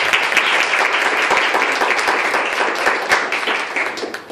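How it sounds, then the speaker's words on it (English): A live audience at a storytelling tournament gives a storyteller loud, sustained applause, with dense clapping that fades slightly toward the end and faint voices mixed in. "Give him one more round of applause."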